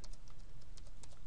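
Typing a web address on a computer keyboard: a quick run of light, close key clicks over a low steady room hum, no voices.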